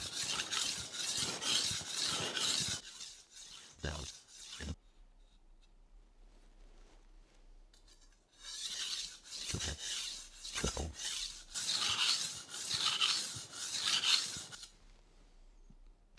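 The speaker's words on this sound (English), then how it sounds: "we're going to switch over to the medium 1000 grit stone now" A Wusthof Classic Ikon knife drawn across a medium 1000 grit whetstone: rhythmic, gritty rasping strokes in two runs separated by a quiet pause, with a few soft knocks between them.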